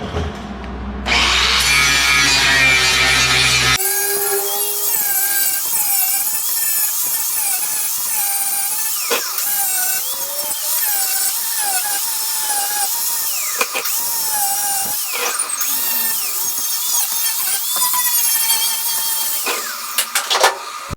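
A grinder works down a fresh weld on a truck cab corner: the high whining tool runs steadily and up close, with scraping and pitch shifts as it bites the metal, after a brief different noise at the start.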